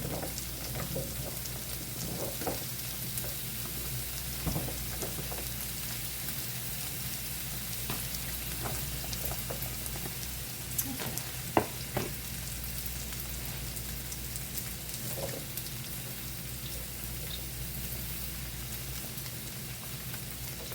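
Zucchini and squash sizzling on a hibachi griddle, a steady soft crackling hiss that runs throughout with a few faint clicks and no talk.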